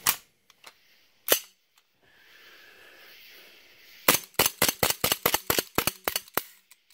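A leaky RWA 1911 gas airsoft pistol fires a few scattered shots, then after a soft hiss a rapid string of about a dozen sharp cracks, close and loud, with no voices.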